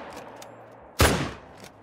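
One sharp, loud M1 rifle shot cracks nearby during a deer hunt on the Te Awaroa reserve in New Zealand, fading quickly into quiet outdoor ambience.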